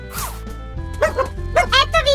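A dog gives a few short barks and yips amid a playful chicken-themed kids' show scene, with a speaking voice and a steady low music bed underneath.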